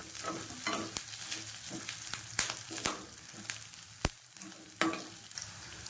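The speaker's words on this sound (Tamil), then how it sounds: "இப்போ நல்லா வதக்கிக்கலாம்." Curry leaves sauté in a pan of chickpea curry base, giving a soft continuous sizzle broken by sharp scrapes and clacks of a spoon stirring, close and fairly quiet, with no talking.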